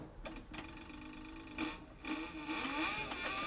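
A Cowboy CB4500 leather sewing machine driven by a servo motor runs in short bursts, its motor whine rising and falling with faint rhythmic needle clatter, fairly quiet and close.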